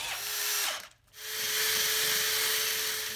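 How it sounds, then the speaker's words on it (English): A power drill bores out a stripped threaded hole with a bit sized for an M10 x 1.0 tap before a helicoil insert is fitted, giving a steady close whine that briefly drops out for a moment and then resumes. "Now we'll drill out the hole that we're going to be repairing with the helicoil."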